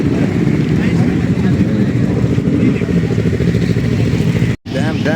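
Motorcycles and superbikes at a bike festival, including Kawasaki Ninja 300, BMW and Honda CBR machines, give a steady loud engine drone close by, with a brief cut near the end and people talking over it.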